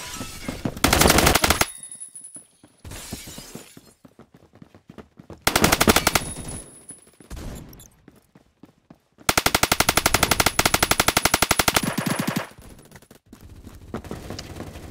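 Light machine gun fire in the Roblox shooter Phantom Forces: several long rapid bursts, loud and close, with short quieter gaps between them.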